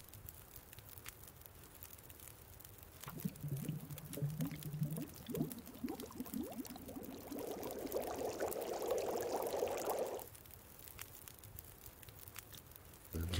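Water pours for breakfast tea in The Long Dark, a faint, close trickling stream that swells into a steady gurgling pour for several seconds, then cuts off, over a low background hum.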